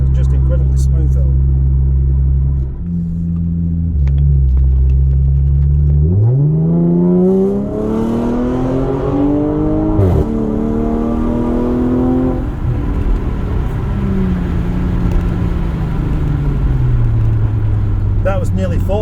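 A supercharged Audi S4 accelerates hard, its engine note climbing in repeated sweeps broken by quick, smooth gear changes, heard loud and close from inside the car.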